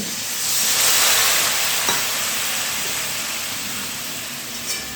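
Water is poured into fried onion and garlic paste in a hot pan and bursts into a loud, close hissing sizzle that swells quickly and then holds as a steady steam rush with a small clink near the end.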